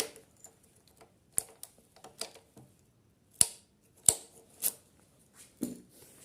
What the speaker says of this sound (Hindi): स्प्रिंग लॉक करने के लिए चाबी को प्रेस करके